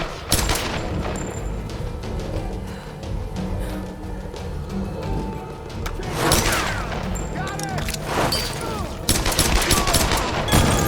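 Gunfire erupts in the video game Tomb Raider during a tanker shootout: repeated sharp bursts and rapid volleys, some heavy booms and metallic mechanisms, loud and close, with people talking over the action.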